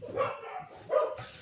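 Dogs bark in the morning, two sharp, mid-distance barks about a second apart with a softer yip between them and no other sound around them.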